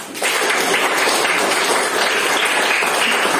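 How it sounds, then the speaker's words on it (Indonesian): A classroom of students claps hands together in a dense, even burst of applause that starts suddenly and holds steady, loud and close. "Tepuk tangan."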